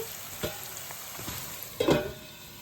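Chopped onions frying in oil in a pan for a cauliflower and chana dal curry, a soft steady sizzle with a few scrapes of stirring, quiet and close.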